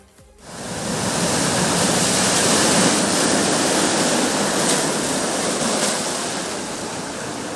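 Rough sea surf roars in a loud, continuous wash of crashing water on the coast at Kannamaly under sea erosion, swelling quickly at the start and staying dense and powerful.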